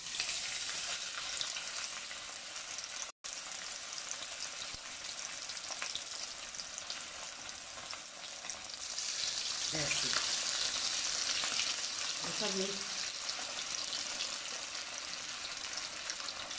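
Rahu fish fries in hot oil over a medium-high flame, giving a loud, continuous, close sizzle that swells partway through, with a few faint clinks and no talking.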